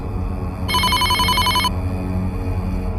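A cartoon telephone rings once in a bright electronic trill lasting about a second, loud and close over a low background hum, with no voices.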